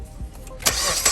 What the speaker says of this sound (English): He's gonna turn on the car so you guys can see.